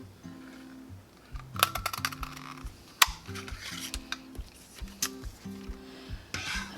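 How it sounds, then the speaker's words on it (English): Circle punch clunking through craft paper and patterned paper, a crafting project with a 1 1/4 inch punch; several sharp clicks and snaps at irregular intervals over steady background music, close and fairly loud. "I'm going to punch out of my pattern paper"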